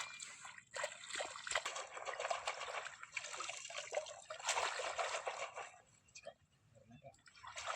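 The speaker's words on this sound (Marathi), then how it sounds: "आता ह्या आपण धुवून घेऊया, काठ्याकडे धुवून घेऊया" Water splashes and sloshes as freshly caught crabs are washed at a riverbank, a continuous close wet churning that dips briefly near the end while a voice talks over it.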